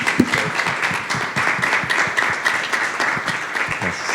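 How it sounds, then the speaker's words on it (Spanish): Audience applause at a medical talk on factor VII deficiency, a sustained, fairly loud round of clapping from a crowd with no speech over it. "Vamos a despedir a Manuel con un fuerte aplauso."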